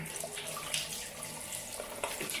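Tap water runs steadily into a sink during a wet shave, a continuous splashing hiss with a few small bursts, no talking.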